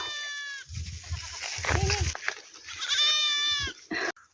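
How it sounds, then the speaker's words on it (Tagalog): Goats bleat loudly and close, drawn-out wavering cries separated by brief pauses, with other animal and background noises mixed in. "Ayan guys, ang aming mga kambing."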